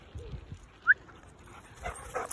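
A female foster dog gives a single short, high whimper near the middle, otherwise quiet with faint room noise and no talking.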